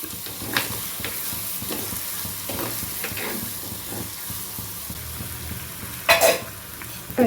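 Dried fish (karuvadu) frying in a pan for a side dish, a steady close sizzle with scattered crackles and stirring scrapes, bursting louder near the end, no voices.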